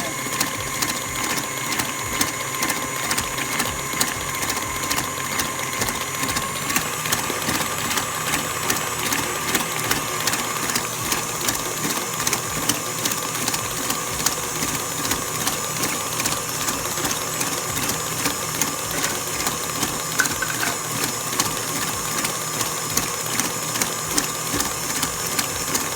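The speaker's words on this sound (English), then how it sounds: "You're creaming the butter and the sugar together." An electric mixer creams butter and sugar for a Jamaican rum fruitcake batter. A steady, close, rhythmic mechanical churning and whirring runs unbroken the whole time.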